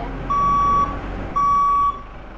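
A truck backs up while its reversing alarm sounds two long, clear steady beeps over a low engine rumble, in a cold outdoor farm setting near irrigation pumps.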